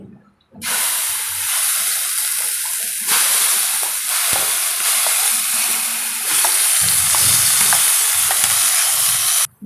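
Ground masala paste for stuffed brinjal curry fries in hot oil, making a loud, close, continuous hiss that swells in two stages, with a few low scrapes from stirring and no talking.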